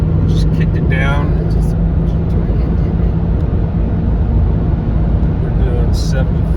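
A 2004 Jeep Grand Cherokee 4.7 HO Limited kicks down and accelerates at highway speed, heard from inside as a steady broadband roar of engine, tyres and wind, with someone speaking briefly over it.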